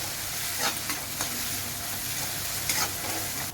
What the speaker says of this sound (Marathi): आता हे आपल्याला परतून घ्यायचं आहे आपले टमॅटो परतून झाले की